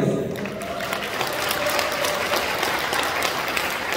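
Loud, dense applause from an audience at a volunteer training event as a research and development team member is introduced, a continuous wash of clapping close and full.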